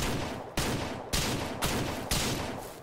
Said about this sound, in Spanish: cuatro tiros